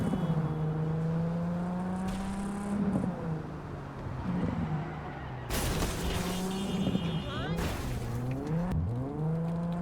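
A car driving in the video game Cyberpunk, its engine humming and rising with revs through shifts, broken by a few louder bursts of crashes or impacts, steady and close.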